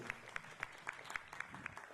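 An audience at a Buddha Purnima gathering claps in a steady, evenly spaced rhythm to welcome guests, faint and distant with little else around it.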